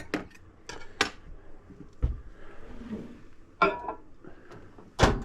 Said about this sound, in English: So we'll give it a good stir here.